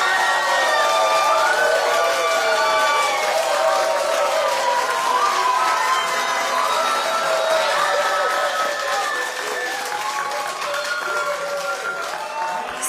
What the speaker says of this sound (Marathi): पायलसाठी जोरदार टाळ्या वाजवा सर्वांनी